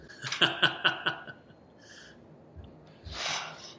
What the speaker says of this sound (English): So I gotta get something to blow my nose.